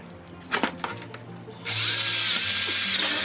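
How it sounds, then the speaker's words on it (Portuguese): A power drill bores holes through PVC pipes being made into a plant pot, with a few short bursts first and then a sustained loud, steady whine from the bit cutting into the plastic. "numa posição para furar os dois furos, né? Os dois tubos, na verdade."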